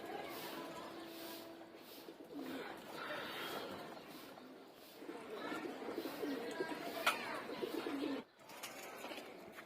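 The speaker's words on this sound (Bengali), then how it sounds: "আলহামদুলিল্লাহ আমার চতুর্থ নাম্বার কবুতরটা দেখা যাচ্ছে।" Pigeons coo softly and repeatedly at a home loft, including a black-tailed hen, with a steady low murmur of cooing and rustling throughout and a brief drop near the end.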